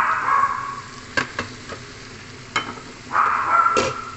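Pork pieces dropped into a hot pan, sizzling and frying with bursts of louder hiss, broken by a few sharp clinks of a utensil against the pan.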